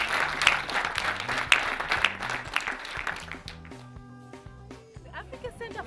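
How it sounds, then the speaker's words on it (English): An audience at an award ceremony claps for a first-place winner, a burst of applause that tapers off over a few seconds as tonal background music takes over. "Another round of applause."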